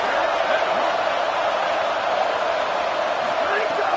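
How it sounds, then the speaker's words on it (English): A steady, dense roar from a stadium crowd at a Tennessee vs Oregon college football game as the defense faces third down, continuous and loud with no breaks. "Decibels rising as the crowd gets behind this defense on third down."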